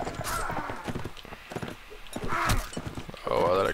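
Horse hooves clop in Mount & Blade Warband, quick irregular hoofbeats up close mixed with game noise and a whinny-like tone near the end, with a voice talking over them.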